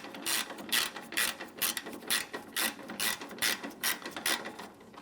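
A ratchet tightens a headlight assembly bolt on a 2005-2007 Ford Five Hundred, giving a close, rapid, steady clicking in regular back-and-forth bursts, about two per second, with no talking.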